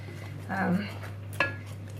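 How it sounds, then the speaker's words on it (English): Apple and ginger cake mixture stirred in a bowl, a short soft scrape followed by a single light clink of the utensil against the bowl, quiet and close with a faint steady hum underneath. "we give it a bit of a stir"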